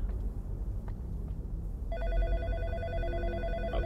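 A telephone rings in the horror video game In Sound Mind, a repeated electronic trill that starts partway through over a low rumbling ambience.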